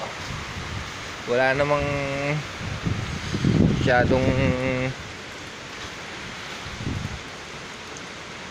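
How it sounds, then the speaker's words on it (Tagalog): Strong typhoon wind in the Philippines during a storm, a broad steady rushing roar running through the whole stretch, with a person talking over it in the middle. "Sobrang lakas ng hangin."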